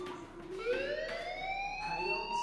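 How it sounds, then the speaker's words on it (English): A fire alarm wails inside a school in the video game Life Is Strange, a rising, whooping electronic siren tone repeating steadily, moderately loud against a muffled background with no talk. "do you hear that fire alarm? That means you should be outside."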